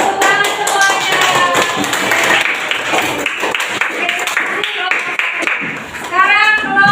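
A classroom of seventh-grade students claps hands together in a sustained round, with children's voices chattering over the clapping throughout.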